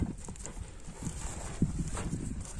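A horse's hooves clip-clop in an uneven sequence of soft, fairly close thuds on the ground, with one sharper knock partway through and no talking.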